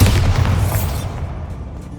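A Bombarda spell goes off inside an abandoned mine in Hogwarts Legacy, a loud deep boom that opens abruptly and rumbles away over about two seconds.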